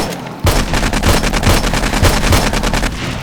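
Rapid automatic gunfire aimed at zombies in 7 Days to Die, a loud, close burst of evenly spaced shots rattling for about three seconds after a brief lead-in, with no talking.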